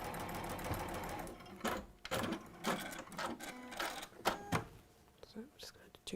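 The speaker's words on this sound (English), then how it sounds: "So just sew those squares together in a row." A sewing machine stitches fabric squares together in a row, its needle running in fast bursts with short pauses between, close and clear, while a person talks quietly over it.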